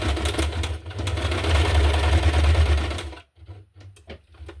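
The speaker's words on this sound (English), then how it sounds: "Just trying to sew nearly to the edge, and I go back and forth a bit at the beginning and the end" A sewing machine running a straight stitch through a paper journaling card with thread, a loud, fast steady whirring hum for about three seconds, then stopping into short stuttering bursts as the stitching goes back and forth.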